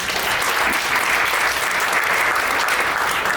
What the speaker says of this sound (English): Clap if you got children, clap if you got children.